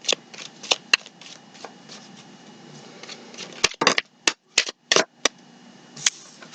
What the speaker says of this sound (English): waiting for the cards to come out.